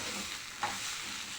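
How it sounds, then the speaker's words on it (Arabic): White rice sautéed and stirred in a hot pot, a soft continuous sizzle with one brief scrape of a spoon partway through, quiet and close. "نشوح كده مع بعض."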